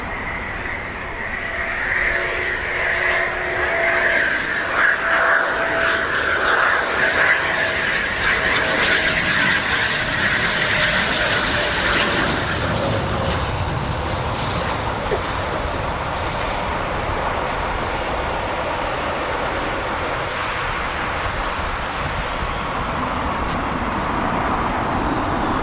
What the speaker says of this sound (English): Bit of aero braking there.